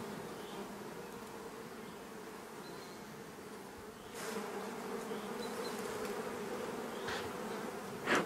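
Honeybees buzz steadily around an open hive during a beekeeper's inspection, a dense continuous drone of many insects close by, with a few louder passes near the end and no talking.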